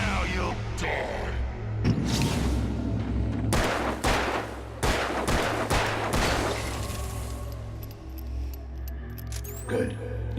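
Gunfire in the video game Alan Wake, a rapid string of loud, sharp shots and bursts clustered close together, with brief gaps and ringing tails between volleys.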